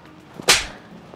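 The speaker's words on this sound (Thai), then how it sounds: "คุณตบผมทำไมอ่ะ" A single sharp slap lands on a person, a crisp loud crack near the middle that fades quickly and stands alone against a quiet background.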